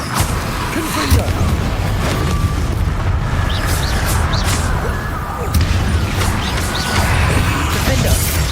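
Confringo blasting spell in Hogwarts Legacy bursting in booming explosions amid continuous combat clatter and game effects, a voice speaking over the action.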